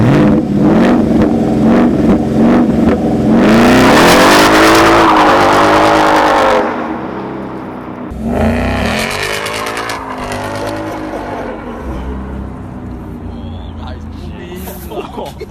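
A Ford Mustang fitted with a Roush exhaust revs hard and loud close by, the engine note climbing and falling through several throttle blips, with people talking around it.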